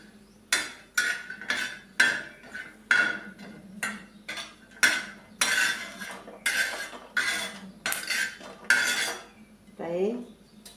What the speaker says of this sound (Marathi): हे खोबऱ्याला काढून घेऊया